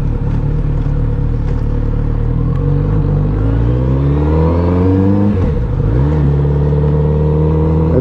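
A Kawasaki Z900RS motorcycle engine revs loud and close, its pitch climbing and falling through several throttle blips, with a deep intake roar from the airbox beneath the mechanical whir.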